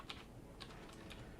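Keys clack on a computer keyboard in a few quick, light, faint taps spread over a moment of quiet.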